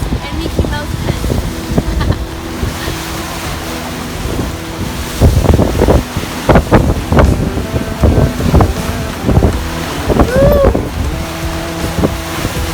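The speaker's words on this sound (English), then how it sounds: "Big waves." Big waves wash around a sailing catamaran in rough seas, with wind buffeting the microphone and deep surging water under intermittent voices on deck.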